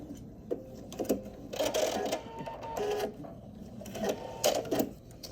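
A sewing machine back stitches a coiled rope bowl, running in short stop-start bursts of mechanical rattling and clicking, close up over a low background hum.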